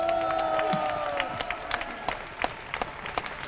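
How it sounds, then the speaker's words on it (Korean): Applause from a seated audience at a Seoul National University forum, a dense wash of clapping that thins into scattered individual claps, with a faint voice early on. "큰 박수 부탁드리겠습니다."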